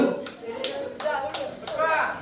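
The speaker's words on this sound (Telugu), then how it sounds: "పుష్ప గారికి ఒకసారి గట్టిగా చప్పట్లు" A small group claps for a performer during a magic show episode, a few quick bursts of hand claps with pauses between, heard close and moderately quiet alongside light background voices.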